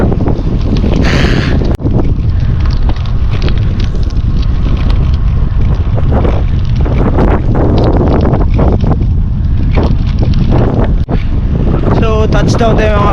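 Strong wind roars and buffets the microphone continuously during a Friday night bicycle ride, a loud, dense rush with faint rattles and brief bumps throughout.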